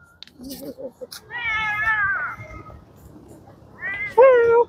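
A person imitating a cat's meow outdoors at Gelora Bung Karno Park in Jakarta, with brief chatter followed by two drawn-out, wavering mewing calls, the second louder and closer.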